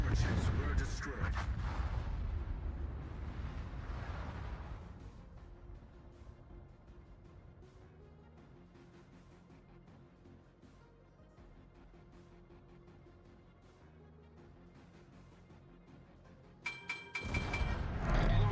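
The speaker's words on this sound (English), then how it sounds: "Transport ships were destroyed." Transport ships destroyed by explosions in a World of Warships match, heavy booming blasts at the start fading into a low rumble with scattered faint impacts, then a sharp loud burst near the end.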